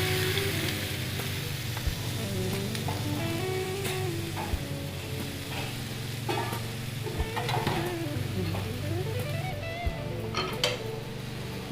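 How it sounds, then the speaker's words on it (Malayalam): Chopped ingredients fry in oil in a pan with a soft, continuous sizzle and faint clinks of utensils, heard alone at a low level. "ഇതിലേക്ക് പാനിലേക്ക് കുറച്ച് ഓയിൽ ഒഴിച്ചു കൊടുക്കാം. ഇനി അരിഞ്ഞു വെച്ചിരിക്കുന്ന എല്ലാം കൂടി ഇതിലേക്ക് ചേർത്ത് കൊടുക്കാം."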